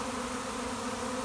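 A swarm of several thousand bees, about the size of a football, settled in a backyard tree, buzzing in a steady, faint, continuous drone with no pauses.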